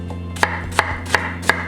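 Knife slicing ginger on a cutting board while making kimchi seasoning, four crisp, evenly spaced chops about a third of a second apart, close and clear over a faint steady hum.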